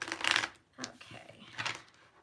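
A deck of tarot-style cards is shuffled in a few quick riffling bursts, close and fairly soft, separated by brief pauses.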